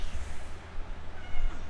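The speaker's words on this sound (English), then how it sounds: "Meow." A cat meows in a few short, close calls, clearly audible over a light background with no talk.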